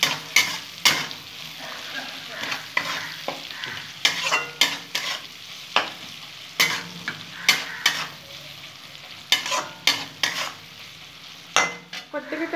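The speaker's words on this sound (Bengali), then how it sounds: "ভালো করে পেঁয়াজটা ভেজে নেবো" Onion fries in a pan while a spatula stirs it, giving a soft steady sizzle broken by frequent sharp scraping clacks that come in irregular bursts, close and clear, with no talking.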